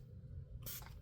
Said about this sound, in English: let me spray the face and then we will do our mascara